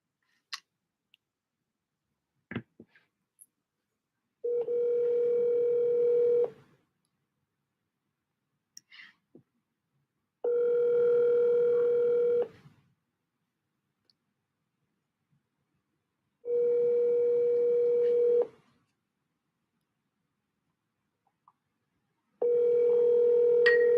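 An outgoing phone call rings out: four evenly spaced two-second ringback tones separated by silence, with faint clicks between them, clear and alone.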